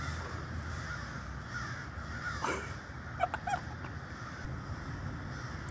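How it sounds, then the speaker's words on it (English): Thousands of crows flying overhead at sunrise make a continuous, distant chorus of caws over a hissing background, with a few sharper, nearer caws in the middle. "literally thousands of crows. Some fly that way over my head, some fly that way over my head."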